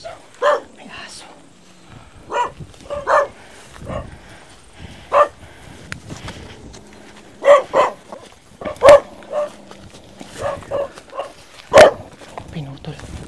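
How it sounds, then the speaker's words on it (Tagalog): A dog barks outdoors in a series of short, sharp yaps and yips scattered through the scene, close and fairly loud, mixed with people talking throughout. "May aso."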